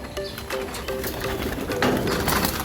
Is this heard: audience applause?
no